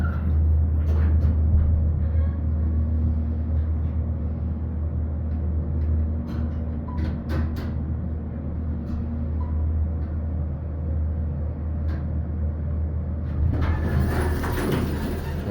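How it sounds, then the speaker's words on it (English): A Zip Systems hydraulic elevator motor at King Hall, Queens College, runs with a loud, steady low hum and rumble, with faint clicks and rattles over it and a brief hiss near the end; no talk. "Now listen to the motor."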